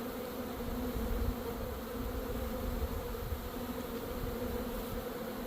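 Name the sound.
honeybees buzzing at a hive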